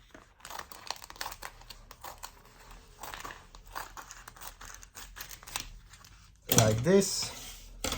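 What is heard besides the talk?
cutting vacuum sealer bag from a roll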